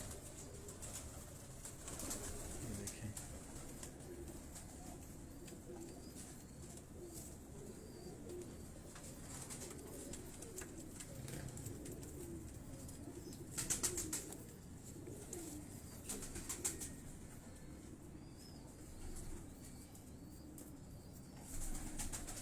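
Teddy pigeons cooing softly in a loft, low repeated murmuring coos over a constant background rumble, with occasional brief wing flaps and faint chirps, no speech.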